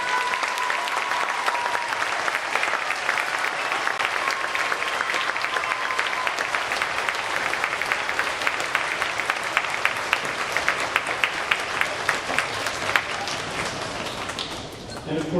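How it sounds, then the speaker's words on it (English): Audience applause for two high school music teachers at a band festival: sustained, dense clapping from a large crowd, steady and loud for about fifteen seconds before tapering at the end. "Can we give them a huge round of applause?"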